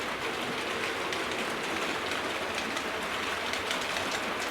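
A model Adams Radial locomotive rumbles steadily along its layout track with a faint, continuous clicking rattle and no voices.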